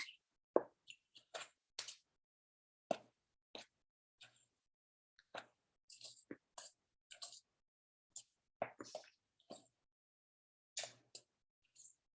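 A spoon mixes pumpkin pie spice in a bowl, giving sparse soft clicks and scraping taps scattered at irregular intervals, close and quiet with silence between them.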